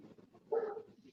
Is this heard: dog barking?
yes